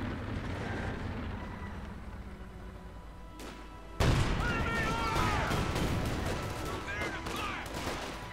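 Machine gun and bazooka fire in the Company of Heroes 2 wartime strategy game, with rumbling battle noise that breaks into a sudden loud blast midway, followed by dense overlapping gunfire and explosions.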